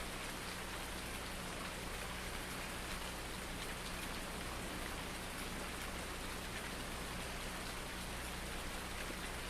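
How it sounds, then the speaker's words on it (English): In the video game Farming Simulator 19, rain falls steadily as an even, dense hiss of drops that stays constant throughout, fairly quiet, with no talk over it. "it is raining"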